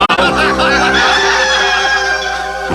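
A rooster crows loudly in one long, harmonic cock-a-doodle-doo that starts abruptly and trails on for a couple of seconds, close and clear with no talk.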